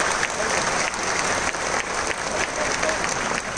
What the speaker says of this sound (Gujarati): એટલે એવા ભરાત સાહેબ માટે આપણે જોરદાર તાળીઓ પાડીએ